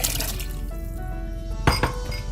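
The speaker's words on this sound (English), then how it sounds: "I'm going to add that to a pot that I have warming on the stove" Thin tomato pepper rasam liquid pours into a warming pot on a stove, a soft watery trickle close by, followed by two sharp clinks of metal or glass near the end.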